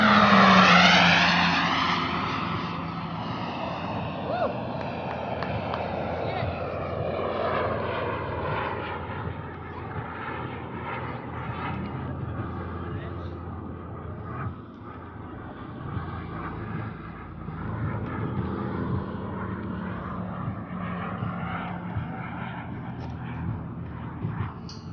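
A 2.1-meter radio-controlled F-86 jet model makes a smoke-on parade pass over the runway, its turbine whine sweeping past loudly at first, then settling into a steady, somewhat distant roar that drones on throughout.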